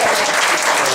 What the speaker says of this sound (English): So everyone, round of applause for Lane.